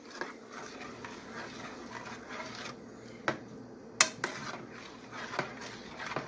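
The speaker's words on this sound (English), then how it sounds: "Now just stir it all up and let it simmer for a little bit." A pot of potato soup with sour cream being stirred, heard as quiet scraping and sloshing punctuated by a few sharp clinks of the utensil against the metal rim.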